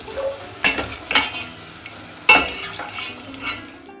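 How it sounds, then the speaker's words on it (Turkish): Potatoes sizzle lightly in a pan with a soft, steady crackle, broken by a few sharp scraping stirs. "Şöyle patatesimizi alalım. Hafif kızartıyoruz arkadaşlar."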